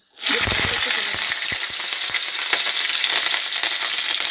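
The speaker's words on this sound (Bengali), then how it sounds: "তেলটা গরম হয়ে গেছে এবার তেজপাতা অল্প পাঁচ ফোড়ন আর শুকনো লঙ্কাটা তেলে দিয়ে দেবো" Beans, bay leaf, panch phoron and dried red chilli drop into hot oil for a Bengali dry cabbage and peas curry. A loud sizzle bursts in abruptly and holds steady, close and continuous.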